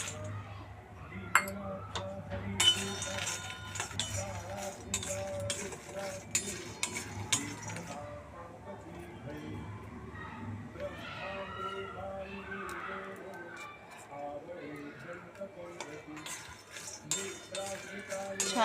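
Makhana roast in a hot iron kadai, stirred with light scraping, ticking and clinking of puffed seeds against the metal, steady and close, with a voice speaking at times.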